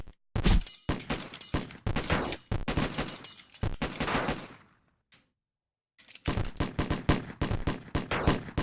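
Gunfire in the video game Alphaman comes in rapid, loud bursts of close shots with cracks and impacts, broken by a short silent gap before the shooting resumes.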